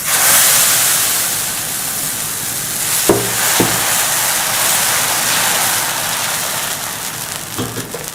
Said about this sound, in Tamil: நான் அடுத்த இன்னொரு தோசை ஊற்றலாம்.